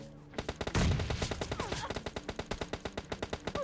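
Automatic gunfire in PUBG Mobile Lite: a long, steady stream of rapid evenly spaced shots, loud and close, continuing for several seconds.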